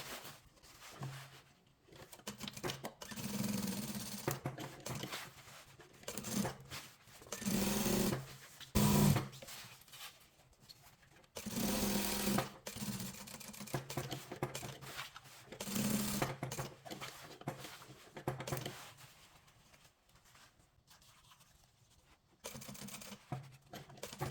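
Short bursts of quiet sewing machine whirring come from a 0.5 stitch being run along the collar of a hoodie. The bursts are separated by pauses with soft fabric rustling.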